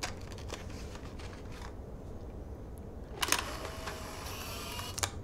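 A camera shutter clicks once in the Life is Strange video game, a sharp snap standing out over a low background hum.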